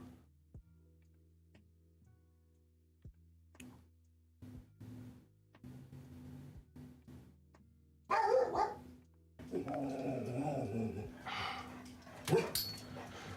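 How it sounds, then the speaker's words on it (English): A house dog barks at night, roused by a car motor outside: a few sharp barks first, then a louder burst of repeated barking later on, with quiet gaps and faint ticking between. "Just because you hear the motor of a car does not mean you got to come out here barking all the time"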